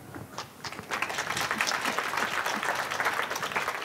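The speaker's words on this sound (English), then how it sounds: "you've already applauded" An audience in a library atrium applauds after an author's talk, a steady wash of many hands clapping that starts lightly and quickly fills out, heard alone.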